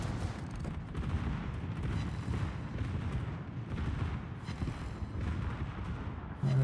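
Battleship guns from World of Warships firing salvos, heard as dense booming blasts and rumbling over a steady low roar, continuous and fairly loud.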